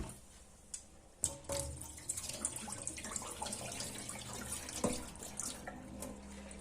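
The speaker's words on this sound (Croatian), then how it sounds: "Kad stavim rižu u posudu, ja volim još jednom bar da je operem." Rice being rinsed in a pot of water for a mushroom and corn risotto, with running water and sloshing, clinking grains that continue steadily, close and fairly quiet, with a sharper splash partway through.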